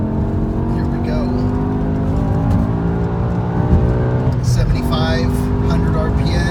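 A BMW E60 M5 in M mode revs hard with a loud, dense engine wail that climbs steadily in pitch, drops briefly at a shift and climbs again, while someone talks over it.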